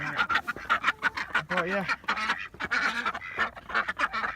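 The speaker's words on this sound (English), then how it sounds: "ducks are going to be hanging out in the snow" Ducks quack and honk in the snow in a noisy, overlapping flock chorus, close and loud, with a person talking briefly among the calls.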